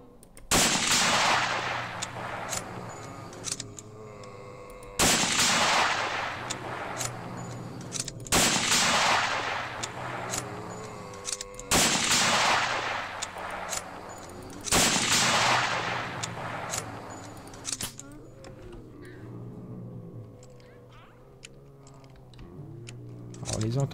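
Gunfire in the zombie survival game Project Zomboid, about five loud shots spaced several seconds apart, each ringing into a long decaying tail, followed by a quieter stretch with faint game ambience.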